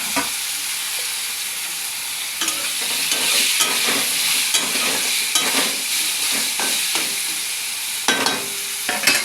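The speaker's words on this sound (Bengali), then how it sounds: "একটা দুটো একটু তেলে দিয়ে দিলাম লঙ্কা, তারপর দিয়ে দিচ্ছি বেগুনগুলো।" Eggplant pieces fry in oil with chillies and black cumin, a continuous close sizzle broken by regular spatula stirs and a few sharper scrapes, no talking.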